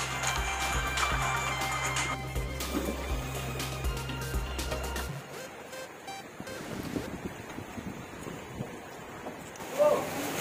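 A boat nears the seashore at Barangay Gata on Lahoy Island, its low engine drone running steadily before cutting out midway, leaving wind buffeting the microphone and the wash of waves along the shore.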